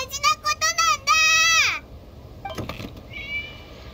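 A cat in the video game Genshin Impact gives a quick run of short meows, then one longer drawn-out meow, followed by a brief clatter and a faint voice afterward.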